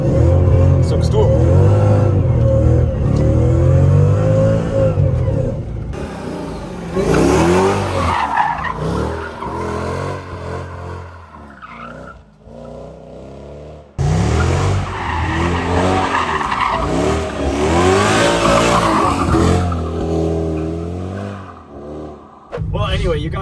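A 90s JDM car revs and slides sideways with tire squeal, its engine droning loudly and rising and falling over long stretches, interrupted by a brief quieter gap, with voices talking over it.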